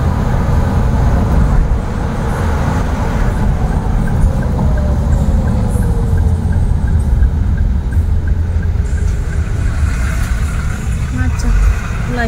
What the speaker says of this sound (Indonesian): Macet lagi.